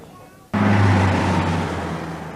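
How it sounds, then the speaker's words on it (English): Heavy road traffic moves through the historic town of Ludlow. A loud, continuous rumble of passing vehicles starts abruptly and holds steady, with deep engine drone under the broad road noise. "ceaseless traffic of a volume and size with which this town just can't cope"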